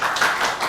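Brief burst of audience applause at a New York City Landmarks Preservation Commission public hearing: a dense, steady patter of many hands clapping at once, fairly loud and close, with no speech over it.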